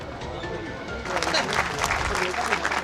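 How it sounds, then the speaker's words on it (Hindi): Audience applause at a community merit award ceremony, moderate clapping that swells after the first second and continues steadily, with a voice talking over it. "बस तालियां थोड़ी होती रहना तो"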